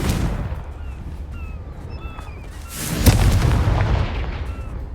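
A Confringo fire blast spell explodes in Hogwarts Legacy, a loud booming blast with rumbling burst and magical whistling tones, alone without talk.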